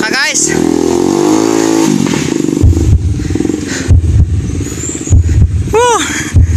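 Motorcycles struggle through deep mud in a farm field, engines revving and labouring with clatter, while people nearby shout and cheer excitedly over the machines throughout.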